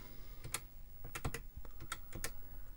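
Someone types on the keyboard of a TRS-80 MC-10 computer, a run of quiet, close, irregular key clicks with no talking.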